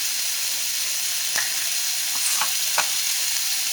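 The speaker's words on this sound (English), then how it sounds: "That's the sizzle you want." Chicken pieces sizzle steadily in a hot frying pan, a dense continuous crackle with a few sharper pops and stirring scrapes near the end, close and fairly loud with no talking.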